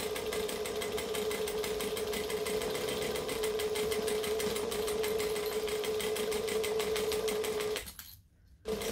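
Sewing machine runs steadily as it slowly stitches a bulky backpack seam joining the lining to the exterior, a continuous close mechanical whir with a rapid needle rhythm that cuts off near the end.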